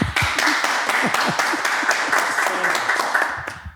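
Applause breaks out in a podcast studio for a guest, a dense wash of clapping that runs steadily for several seconds with a few sharper individual claps and some voices mixed in.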